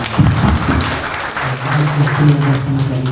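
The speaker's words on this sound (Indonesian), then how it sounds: "Tepuk tangan baik-baik" Audience applause at an Indonesian business presentation, a continuous loud wash of clapping from a crowd, with a low sustained tone from music or a voice running underneath.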